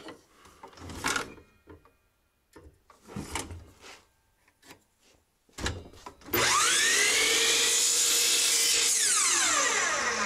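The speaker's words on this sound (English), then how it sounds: "so I'm going to cut them to length on the miter saw." A miter saw spins up loud and steady to cut wood pieces to length, following several bumps and handling knocks as the stock is positioned.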